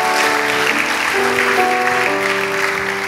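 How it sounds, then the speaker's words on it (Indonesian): A church congregation claps during a sermon's closing, loud and sustained applause blended with held keyboard or organ chords playing underneath. "Berikan tepuk tangan kita untuk Tuhan kita."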